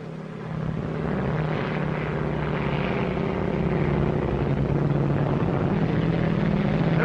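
A propeller airplane drones steadily in flight at altitude, a loud continuous engine and airscrew roar that swells in at the start and holds unbroken throughout.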